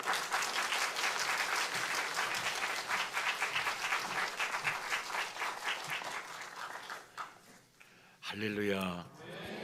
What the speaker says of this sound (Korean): 우리 백동종 목사님 나오실 때 큰 박수로 맞이하시면 감사하겠습니다